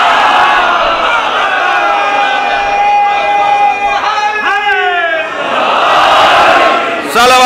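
A large crowd at a Shia majlis chants religious slogans loudly together in rhythmic, sustained voices, with a swell of overlapping cries and shouts near the end.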